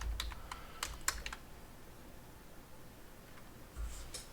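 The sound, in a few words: typing on a computer keyboard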